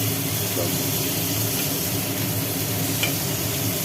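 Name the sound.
onion, tomato and drumsticks frying in a pan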